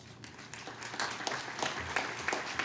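A crowd at a high school football game, Prestonsburg vs. Floyd Central, claps steadily, a dense patter of many hands at moderate distance, without any speech.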